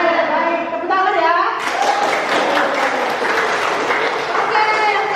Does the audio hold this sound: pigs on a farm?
no